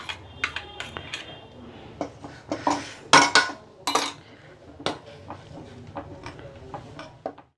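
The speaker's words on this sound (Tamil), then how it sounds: "பால் கிண்டி விட்ருக்குறேன்." Metal clinks and scrapes of a utensil stirring milk in a pot, irregular taps and clatters at close range, with no talking.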